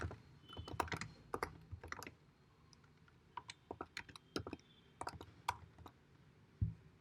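Bursts of keystrokes on a computer keyboard, quick clusters of sharp clicks separated by short pauses, with a heavier thump near the end, close and fairly quiet with no speech.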